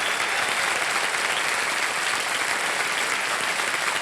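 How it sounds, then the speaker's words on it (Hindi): Steady, dense applause from a game-show studio audience fills the whole stretch, loud and even with no break or voice on top. "अच्छा ताली बजा दीजिए"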